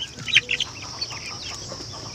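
A few short, bright clucks from native chickens near the start, then softer scattered bird noises over a steady low background hum.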